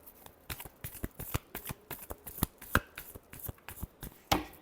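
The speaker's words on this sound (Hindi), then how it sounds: "Last shuffle." Tarot cards are shuffled by hand close up, giving a quick irregular run of sharp papery slaps and riffles, with a louder flurry at the end and no speech.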